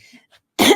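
A single short, loud cough from a presenter at a .NET Frontend Day conference talk, closing a brief moment of near silence.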